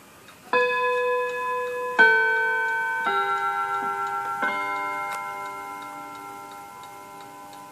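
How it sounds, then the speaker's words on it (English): A 1948 Seth Thomas Westminster chime tambour mantel clock sounds its quarter-hour chime: four clear, ringing notes struck one after another, each lingering and decaying, close and alone in a quiet room. "this will actually chime on the quarter hour"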